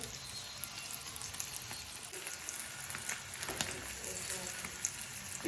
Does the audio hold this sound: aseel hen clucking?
no